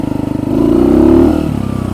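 A Kuba Race 125 motorcycle ridden on an off-road track, its small engine buzzing close up as the throttle opens, revving higher for about a second, then easing back to a steadier drone.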